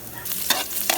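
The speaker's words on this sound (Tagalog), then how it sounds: "Magisa muna tayo ng bawang" Garlic sautéing in a hot pan at the start of a pinakbet, with a steady sizzle broken by two sharp stirring scrapes over one second, close and alone.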